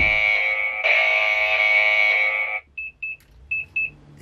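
A loud continuous electronic door-sensor alarm tone in a motorhome sounds for a couple of seconds as the door opens, then breaks into four short beeps in quick pairs.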